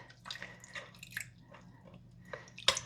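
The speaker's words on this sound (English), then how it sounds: "and then add some cold water to it" Cold water is added to a spoonful of cornstarch for thickening a creamed turkey sauce: quiet, close drips and small splashes in an uneven rhythm, with no talking.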